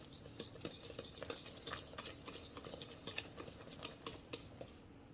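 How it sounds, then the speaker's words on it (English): A banana mixture is stirred into pancake batter in a bowl: a close, rapid run of wet, sticky swishes and light utensil scrapes that keeps going without a break, with no voices. "Now I'm gonna add my banana mixture. Then I'm gonna give it a good mix."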